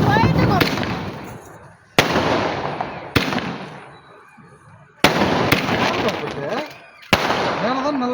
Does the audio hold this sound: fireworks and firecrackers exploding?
yes